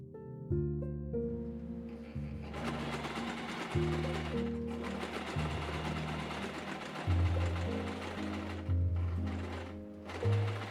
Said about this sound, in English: then we can finally sew the front piece to the back panel